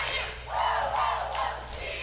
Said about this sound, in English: we got some lovely cheering going on in front of the student section